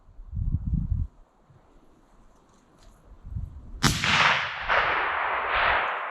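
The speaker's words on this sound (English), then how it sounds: "Shoot it whenever you're ready." A single 300 Win Mag sniper rifle shot cracks out loud and sharp outdoors after quiet low wind rumble, then rolls away in a long echoing tail.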